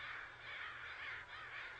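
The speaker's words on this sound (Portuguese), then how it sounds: "Os corvos têm um sistema de comunicação muito rico" Crows cawing, several harsh calls in a row, moderately distant and faint, with no voices over them.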